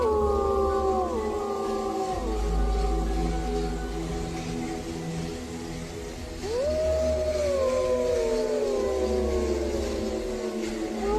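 Several dogs howl together at night on a road in Gujarat, long wavering cries that overlap, fade, then rise again in a second round, over a steady low background rumble.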